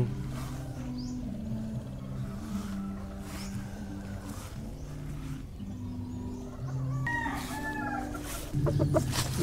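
A gray brood stag gamecock clucks repeatedly nearby, with a few louder, sharper calls near the end, over a low background hum.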